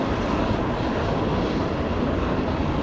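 A Eurofighter Typhoon's jet engine roars with afterburner in the Flight Simulator X game, a loud, steady, broadband rumble that holds constant throughout with no voices over it.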